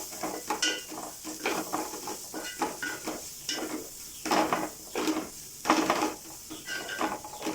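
Coriander powder is stirred into an egg rice masala in a pan, with a spoon scraping and clinking in rhythmic strokes over a light sizzle, close and clear, with no talking.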